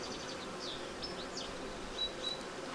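Honey bees buzzing around an opened hive during a routine colony examination as frames are lifted out: a faint, continuous hum with individual bees whizzing close by now and then, no talking.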